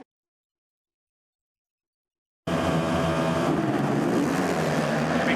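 Motocross bikes charging into the first corner of an MXGP race in Latvia, Max Nagel on a Husqvarna among them, their engines a loud, dense, continuous roar that bursts in abruptly after two and a half seconds of silence.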